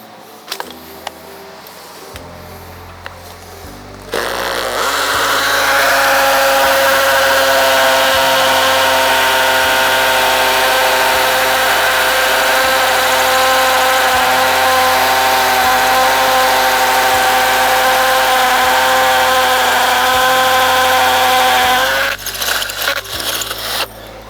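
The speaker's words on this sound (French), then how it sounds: "Donc on va voir si vraiment on peut utiliser cette perceuse là dans tous les cas." A Dexter power drill bores into a wall, a loud, steady whining drone held for about eighteen seconds after a short start, then stopping, with faint knocks before and after.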